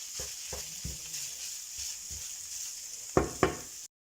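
Minced meat browns in a hot oiled pan with a steady close sizzle, broken by a few soft stirring knocks and two sharper utensil scrapes near the end before it cuts off.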